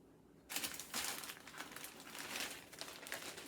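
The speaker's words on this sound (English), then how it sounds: "So here I've got another box of aluminum foil that has not been opened." An unopened box of aluminum foil being handled, giving close crinkling and rustling crackles that come in bursts with short pauses, after a brief quiet start.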